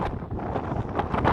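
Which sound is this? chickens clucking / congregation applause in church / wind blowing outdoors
wind blowing outdoors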